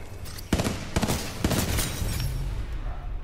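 Gunfire in the shooter game Titanfall 2, with several sharp, loud shots at about half-second spacing early on, then a sustained noisy rumble of combat without talk.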